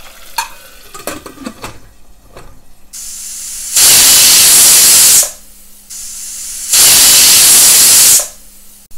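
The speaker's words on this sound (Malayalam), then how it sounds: "കുക്കറിൽ ഇപ്പോൾ രണ്ട് വിസിൽ കേട്ടിട്ടുണ്ട്" After a few clanks and clicks, a pressure cooker cooking sardine curry lets out two long, loud hissing whistles of steam, each lasting about a second and a half.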